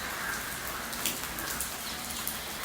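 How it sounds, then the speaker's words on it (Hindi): Steady morning rain falling in Bombay, a dense continuous patter of drops with a few sharper nearby splashes standing out, no voices. "तो सुबह सुबह बारिश हो रही है।"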